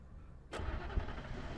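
A jeep engine cranks and turns over in the Alan Wake video game, a single abrupt start settling into a low, steady running rumble, fairly faint and with no talking.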